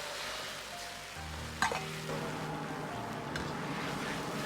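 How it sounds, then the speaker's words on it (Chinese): Premixed sauce is poured into a hot wok of oil, spicy chili sauce, bird's eye chilies and minced garlic, giving a steady close sizzle with a sharp splash partway through. "炒香后倒入提前兑好的料汁"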